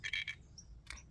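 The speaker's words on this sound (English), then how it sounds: "That is a frog under my camera." Two short bursts of croaking from a frog nearby in a garden, a quick rattling trio then a single croak, over a quiet low rumble.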